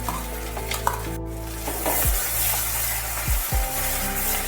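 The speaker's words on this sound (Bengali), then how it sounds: "জিরেটা একটু ভাজা ভাজা হয়ে যাওয়ার পর বেটে রাখা মশলাটা আমি এর মধ্যে দিয়ে দিচ্ছি।" Ground spice paste goes into cumin seeds frying in oil over a very low gas flame, for butter prawns, giving a steady close sizzle with occasional scrapes and soft knocks of utensils against the pan.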